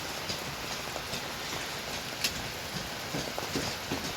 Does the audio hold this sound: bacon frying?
no